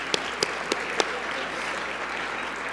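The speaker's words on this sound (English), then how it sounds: "Please, round of applause." A luncheon crowd at an annual arts awards ceremony claps steadily, a soft even wash of applause with a few sharper individual claps standing out early on.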